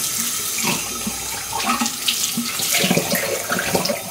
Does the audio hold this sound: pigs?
no